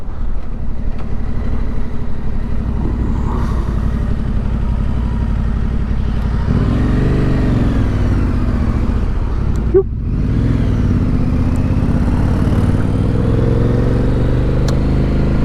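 A motorcycle overtakes another vehicle on the road. A loud, steady engine drone with wind rush sits close to the rider, and the tone rises and shifts as the bike passes and eases back.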